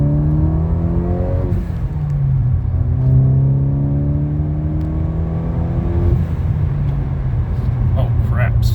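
A Ford Focus ST engine fitted with a cheap aftermarket intercooler pulls hard in second gear, loud and close, its whining pitch rising in two long sweeps with a brief drop between them.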